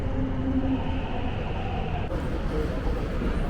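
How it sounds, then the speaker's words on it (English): A Hong Kong subway train pulls into the station with a steady, loud rumble and rail hum, a faint whine fading as it arrives. "Here comes the subway train."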